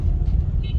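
Dense evening traffic crawling along Abdullah Haroon Road in Saddar, Karachi, heard as a short burst of close, low engine rumble from cars and buses, steady throughout.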